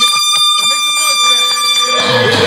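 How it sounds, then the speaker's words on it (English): A loud, blaring horn blast holds a steady, brassy tone for a couple of seconds before breaking into harsher noise at the end. "Air horn. Air horn."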